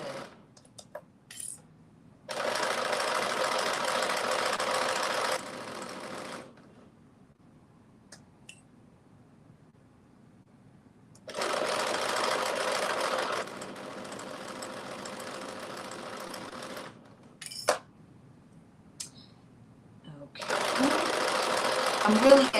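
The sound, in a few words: sewing machine top-stitching sleeves of a top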